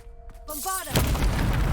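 A Bombarda spell explosion in the Hogwarts Legacy video game: a short voiced cry is followed by a loud, broad blast that erupts and rumbles on without fading.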